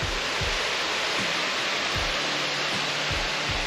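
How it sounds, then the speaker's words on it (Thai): A waterfall beside a campsite at Ban Krang camp in Kaeng Krachan makes a constant, dense roar of rushing water. It is loud and unbroken, with faint low thumps underneath. "อยู่ใกล้น้ำตกเลยค่ะ"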